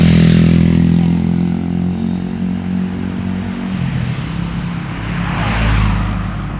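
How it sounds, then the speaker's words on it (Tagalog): A motorcycle goes by on a road where pedestrians wait to cross, its engine loud and near at first, then fading as a rougher rumble swells again toward the end. "Ayan ang motor."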